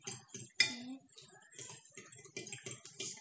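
A spoon clinks lightly against a bowl while bread pudding batter is being mixed, giving a string of faint, irregular taps and scrapes with a few brighter chinks, quiet and close.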